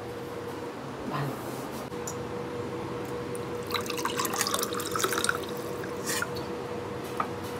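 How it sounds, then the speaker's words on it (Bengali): Boiled ghugni peas are strained, with water dripping and trickling off close by; a steady run of liquid builds to splashy bursts midway, with a faint voice in the background. "জলটা ছেঁকে নিলাম।"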